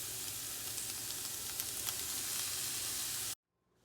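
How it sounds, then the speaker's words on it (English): Onions, celery and mushroom stems sauté in a hot pan with a loud, steady sizzle heard close up that cuts off abruptly near the end. "we're going to saute the onions, celery, and mushroom stems"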